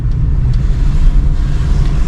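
A car rolls downhill in gear under engine braking, a steady low rumble of engine and road with some wind noise and no voices.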